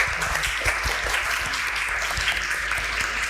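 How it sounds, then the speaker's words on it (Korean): Warm applause of encouragement at a Korean mentoring gathering about marriage. The crowd keeps up a dense, even clapping that fills the room steadily for a few seconds. "격려의 박수를 드리고 싶습니다"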